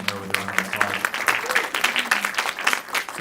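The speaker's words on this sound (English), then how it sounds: "So welcome her with a round of applause." An audience applauds to welcome a speaker at an event on early childhood education in Connecticut, a steady wash of clapping from a crowd, with a voice heard at the start.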